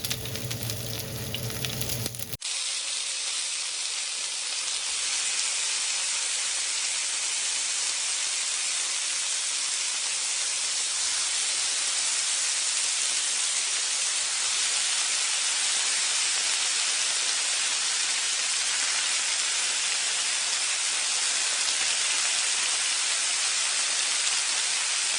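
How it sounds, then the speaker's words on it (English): Large scallions frying slowly in oil over low heat, a close, steady hiss of fine sizzling crackle that carries on evenly and alone after a brief different sound at the start. "Add the large scallions and fry slowly over low heat until you can smell the scallion"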